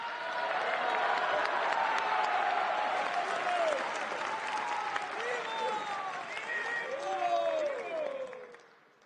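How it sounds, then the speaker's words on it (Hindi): A crowd applauds at a devotional gathering, with dense, sustained clapping mixed with raised voices and rising and falling calls. The sound holds strong before tapering off at the end. "पीएम ताली नहीं बजा रहा था, प्रभु भक्त ताली बजा रहा था।"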